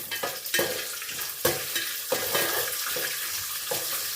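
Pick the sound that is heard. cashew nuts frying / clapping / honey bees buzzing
cashew nuts frying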